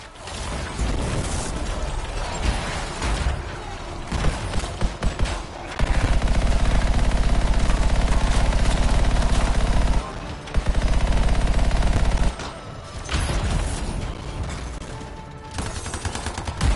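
Rapid automatic gunfire in the Anthem video game rattles loudly in long, dense bursts, cut by short gaps and mechanical clicks, with game sounds layered throughout.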